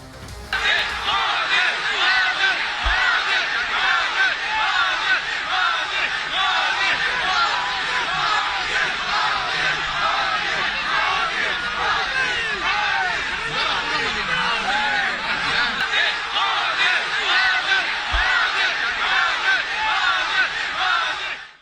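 A large crowd gathered early in the morning to see Prime Minister Modi around the Chandrayaan 3 event cheers and chants in a loud, continuous roar of many voices that holds steady for over twenty seconds.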